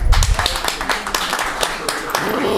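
An audience at an album listening session applauds, a burst of close, dense clapping with a speaking voice over it.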